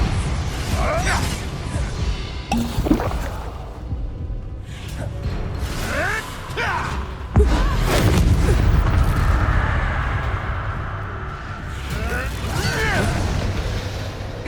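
Fire spells cast in the Hogwarts Legacy video game on PS5, heard as bursts of whooshing flame and booming impacts amid combat effects, with a voice shouting over them.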